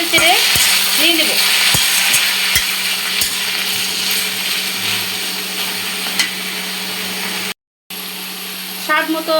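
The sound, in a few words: stirring taro stems frying with browned onions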